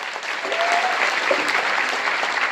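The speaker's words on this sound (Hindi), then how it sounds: "ताली बजा दीजिए।" Seminar audience clapping together in a hall, a dense steady wash of applause lasting a few seconds at moderate loudness, with no voices over it.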